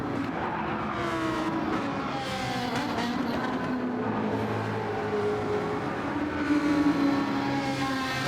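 Lamborghini race cars battle at speed in Gran Turismo 7, engines roaring steadily throughout with shifting pitch as they pass, tire squeal audible, loud and continuous.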